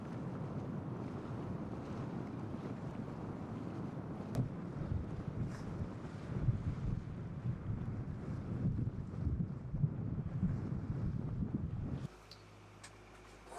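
Motor yacht M/V Sea Venture cruising at 1,000 RPM toward the Golden Gate Bridge, a steady low engine drone mixed with wind buffeting and water wash, continuous and fairly loud until it drops sharply near the end.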